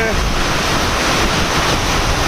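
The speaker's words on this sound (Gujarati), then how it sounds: "લાઠીદળ યાર્ડમાં જોરદાર વરસાદ" Heavy unseasonal rain pours on the shed roofs of the Lathidad market yard in a dense, constant hiss, loud and unbroken throughout, with a faint low rumble underneath.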